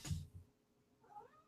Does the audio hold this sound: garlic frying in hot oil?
no